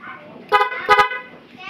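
A Honda TMX125 motorcycle horn fitted with a relay and interrupter gives a few short, loud, buzzy honks in close succession, with a voice talking before and after.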